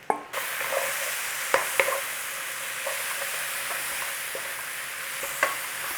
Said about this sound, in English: So we're just trying to put a little bit of golden on these mushrooms and just cook out a little bit of that moisture.